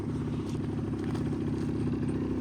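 A 2004 Yamaha Basic Jog two-stroke scooter engine runs at a steady idle, a continuous buzzy drone with light mechanical clatter, fairly close.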